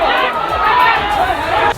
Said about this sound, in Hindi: गुस्साई भीड़ उस स्कूल के बाहर हंगामा करती नजर आई